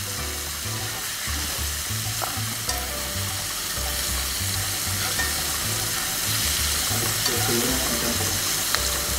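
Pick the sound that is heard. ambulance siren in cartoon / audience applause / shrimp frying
shrimp frying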